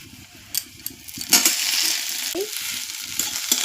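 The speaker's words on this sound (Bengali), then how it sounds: "এই শাকটাকে এখন সম্বাস দেব। একদম ভাজা হয়ে গেছে, লঙ্কা আর রসুন। এখন দিয়ে দিব শাক" Leafy greens dropped into a pan of fried chilli and garlic, a quiet sizzle with a few clinks that bursts into a loud, sustained hiss as the greens hit the hot oil and keep frying.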